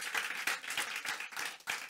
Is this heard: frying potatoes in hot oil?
no